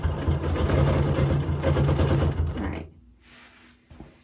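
A sewing machine running steadily through free-motion quilting on a pillow, a loud, continuous mechanical stitching whir for nearly three seconds before stopping abruptly, leaving faint quiet with a small clunk near the end.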